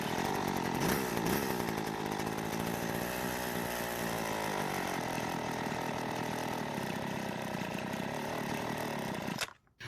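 A hedge trimmer's small two-stroke engine runs rough and loud close by, revving and wavering unevenly before it cuts out abruptly at the end, with no talking.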